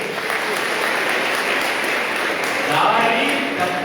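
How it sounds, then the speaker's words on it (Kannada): Audience applause at an inauguration event, a dense steady wash of many hands clapping that holds for several seconds and swells slightly near the end. "ಒಂದು ಚಪ್ಪಾಳೆ ಹೊಡಿರಿ"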